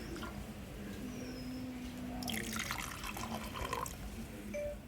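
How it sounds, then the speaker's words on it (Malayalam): Boiled butterfly pea flower water pours through a strainer, a faint trickle building into a louder splashing stream halfway through, with a few light clinks and no voices. "അരിച്ചെടുത്തു ശംഖുപുഷ്പത്തിന് വെള്ളം"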